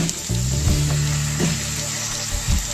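Egg pasta with chicken masala frying in a pan, a loud, steady sizzle close up, broken by a few soft stirring scrapes and no voices.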